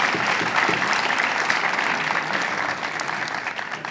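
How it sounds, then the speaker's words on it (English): Audience applause at a men's 10m air pistol final at an ISSF World Cup in Changwon, a loud, even wash of clapping that holds steady for the whole stretch. "perhaps another round of applause"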